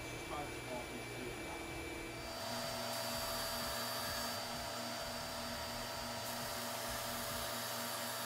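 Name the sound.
WEN 6502T belt sanding station sanding wood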